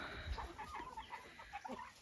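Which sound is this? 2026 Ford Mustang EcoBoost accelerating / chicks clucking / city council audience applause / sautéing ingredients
chicks clucking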